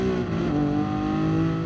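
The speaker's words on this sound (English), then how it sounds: "This car sounds so good." In the GT Sport racing game, a race car's engine holds a loud, continuous tone with dense harmonics that dip slightly then level off, alone without any voices.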